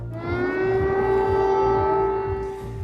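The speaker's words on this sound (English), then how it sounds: "Warning sirens are heard across Kiev" Loud, steady wailing air raid sirens over Kyiv hold a sustained rising tone with harmonics, sounding continuously over low background rumble.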